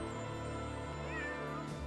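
A cat meows once in Fire Emblem: Three Houses. The short, rising, clear meow is heard quietly over soft game background music.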